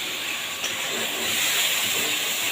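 Water hits dry spices frying in a pan for a Bengali boal fish and taro curry, and a broad, steady hiss of steam rises and swells a little. No voices are heard.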